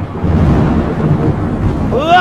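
A thunderstorm sound effect in a live stage show plays as a loud, continuous rumble of thunder with rain, ending in a brief rising tonal sweep.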